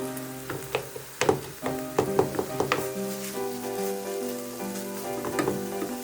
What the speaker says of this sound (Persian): بعد اینکه پیاز تفت خورد 250 گرم گوشت چرخ کرده رو همراه پیاز تفت میدیم